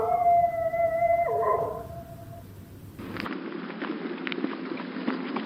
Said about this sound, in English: There's a man with a dog.